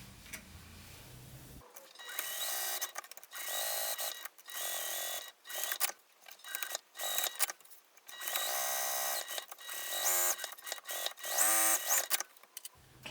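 A sewing machine stitches fabric pieces for a handmade bag with a zipper and lining, running in repeated short bursts of fast whirring stitches separated by brief pauses, close and clear with no talk.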